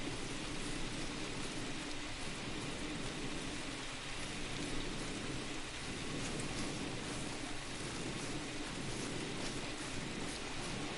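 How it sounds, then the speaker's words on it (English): Pouring rain in the hunting game The Hunter: Call of the Wild, Te Awaroa reserve, a steady dense hiss of heavy rainfall that stays even and unbroken throughout. "Pouring rain now, ain't it?"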